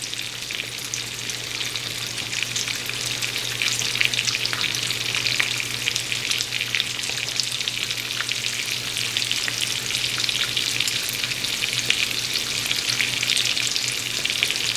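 Sunny side up eggs frying in a pan on a burner, a dense, even sizzle with fine crackling that holds steady throughout, close and fairly loud with no voices.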